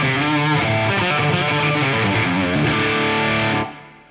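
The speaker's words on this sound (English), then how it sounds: "Then we've just got a victory, the crunch channel of the amp." An electric guitar on the crunch channel of a Victory amp plays a loud, gritty, driven passage of strummed chords that sustain for several seconds before cutting off abruptly near the end.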